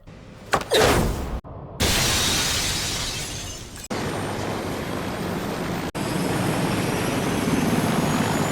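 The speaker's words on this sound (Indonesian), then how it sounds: "dia membantu Joseph kabur menggunakan helikopter" A helicopter in the anime Ninja Kamui: a loud, steady engine roar with broadband rotor-like noise, briefly cut by a couple of short gaps, sustained throughout as it flies close by.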